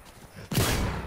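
A sudden burst of gunfire from an enemy player in a video game cuts in halfway through, loud and dense after near silence, with no talking over it.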